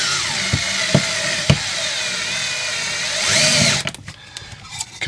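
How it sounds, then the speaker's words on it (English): A DEWALT 8V MAX cordless screwdriver drives a drywall screw through a drywall anchor with a loud, steady motor whine and a few sharp clicks. The whine then rises and cuts out, followed by brief handling noises. "I'll take the drywall screw and I'll run it through first"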